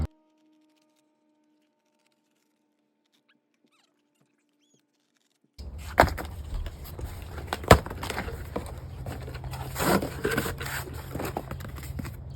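Cardboard for garden triangles is cut. After about five seconds of near silence comes a close, continuous scraping and rubbing with a few sharper snaps.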